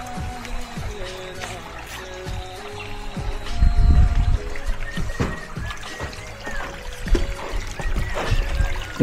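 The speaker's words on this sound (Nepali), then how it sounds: "जरुवा पानी रहेछ माथिबाट बगेर आएको पानी रहेछ" Spring water trickling and pouring down from above in a Tasmanian forest, a close, steady watery patter with irregular splashes that swell louder midway, with no talk over it.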